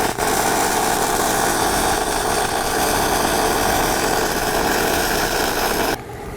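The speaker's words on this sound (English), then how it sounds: "just mild steel welded on a piece of stainless steel I found in the scrap bucket over there" An Everlast MTS 275 welder lays a bead of mild steel onto scrap stainless steel, giving a loud, continuous hissing crackle with no break for about six seconds before it stops.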